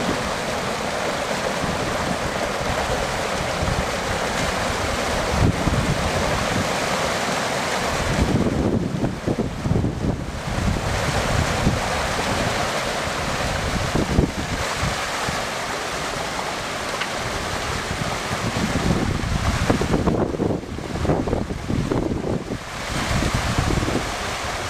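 Water flows through a weir orifice, coming up through one hole, as a loud continuous rushing wash with surges and gusty outdoor noise throughout, no voices.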